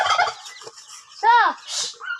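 Turkeys gobble close by, a quick rattling burst followed by more squawky bird calls.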